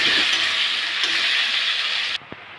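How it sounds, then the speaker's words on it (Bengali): Potatoes fry in hot oil seasoned with salt and turmeric, giving a loud, dense sizzle for about two seconds that cuts off abruptly, followed by a single soft knock. "তেলটা গরম হয়ে গেছে, আমি আলুগুলো দেবো, ভেজে নেব"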